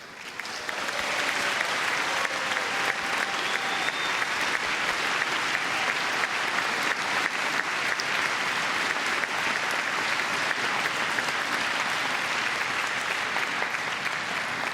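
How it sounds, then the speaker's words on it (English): A crowd at the NEC Wheelchair Tennis Masters applauds the runner-up in a steady, dense wash of clapping that rises quickly and holds loud and even, with no talk over it. "you can hear from that applause, the fans absolutely love that"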